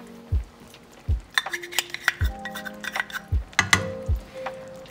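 A metal spoon stirs cilantro cubes into a simmering pot of Spanish rice, giving sharp clinks and scrapes against the pot in an uneven rhythm, close and clear, with several ringing taps and no talking.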